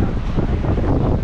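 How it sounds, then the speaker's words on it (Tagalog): Strong wind buffeting the microphone in a brief, steady, loud broadband rush with no pauses. "Lakas ng hangin."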